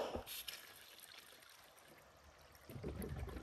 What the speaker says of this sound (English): That's the water flow. Hear it?